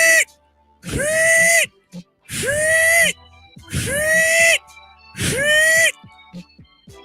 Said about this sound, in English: That is the sound of the Vandy whistler.